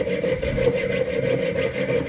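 Jeweler's saw with a coarse 08 blade cutting a copper ring blank, giving a steady, close rasping stroke that repeats evenly throughout with no talk.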